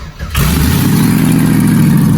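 A big 5.7-litre LS1 V8 engine cranks briefly, then fires up and settles into a loud, deep, rumbling idle close by.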